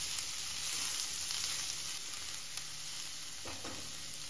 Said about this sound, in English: I'm adding 2 large onions finely chopped.